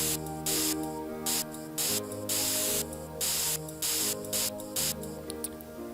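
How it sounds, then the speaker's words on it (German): Garden flowers being sprayed in the life-simulation game The Sims 3: a series of short, loud hissing spray bursts in an irregular rhythm, heard over steady background music. "Wir sprühen einfach ein paar hin."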